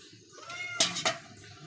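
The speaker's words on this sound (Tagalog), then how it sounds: "Ganyan akong mga iring kaya dili kahulat ko eh. Saba kaayo." Several hungry house cats meow insistently at feeding time in a home kitchen, short cries rising over a faint background, with two sharp clinks of dishes or pans near the middle.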